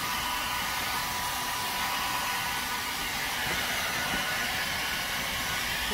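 Hair dryer blowing steadily on a cat's fur after a bath, a loud continuous broadband whoosh that fills the whole stretch without pause.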